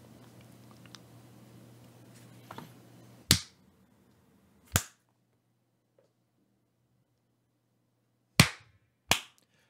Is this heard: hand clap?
yes